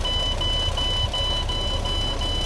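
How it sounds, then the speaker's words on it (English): A truck's low air pressure warning beeps in a steady rapid repeating pattern of short electronic tones, loud and close over a low engine rumble in the cab. "That beeping sound will go off once the air pressure builds"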